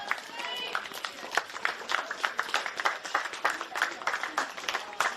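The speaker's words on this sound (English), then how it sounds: "That by a warm round of applause." Spectators at a women's first-grade football match, Charlestown Azzurri against Broadmeadow Magic, give a steady round of scattered clapping and applause from a modest crowd, heard a little way off under a commentator's voice.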